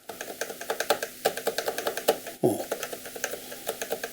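Rapid clacking of an EPOMAKER RT-100 mechanical keyboard, a steady stream of crisp keystrokes close up with one louder thump midway, no voices.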